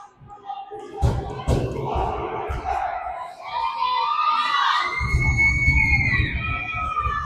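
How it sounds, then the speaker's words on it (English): A crowd at a Jr Preds 14U AA junior hockey game cheers and shouts, with youthful voices and thumps from the stands over a steady arena roar, and a commentator talks over it. "The crowd is electric, that's for sure."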